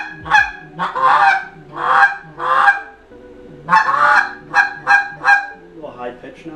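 A handmade goose call, freshly turned on a lathe, is blown in a rapid series of about nine loud, close honking calls with short pauses between bursts, and no talk over them.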